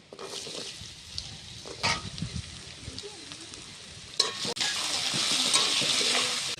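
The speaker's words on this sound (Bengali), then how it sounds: "কড়াতে আমি তেল দিয়ে দিচ্ছি আলুটাকে ভেজে নেব খিচুড়ি খাওয়ার জন্য আলুটাকে ভেজে নেব" Potatoes fry in oil in a wok, a continuous crackling sizzle up close, punctuated by a few stirring scrapes and knocks, then swelling louder and hissier over the last couple of seconds.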